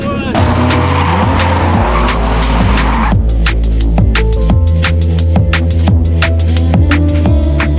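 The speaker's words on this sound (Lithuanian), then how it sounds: "Lydimas šonu, man atrodo, vyksta." A car drifting sideways at drift training, its engine roaring loudly and steadily while tires squeal and skid, close and continuous.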